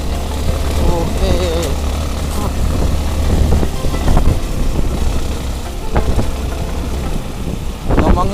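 A Yamaha WR155 trail motorcycle's engine drones steadily while riding an off-road trail, with a low rumble and occasional sharp knocks and bumps from the rough ground.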